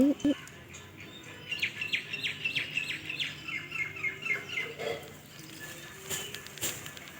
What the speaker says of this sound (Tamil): குருவி சவுண்ட்லாம் பாருங்கள் அழகாக கேட்குதில்ல